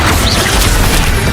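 A Confringo fire spell bursts in Hogwarts Legacy, a loud, dense crash of blast and crackle filling the whole short moment with no clear gaps or voices.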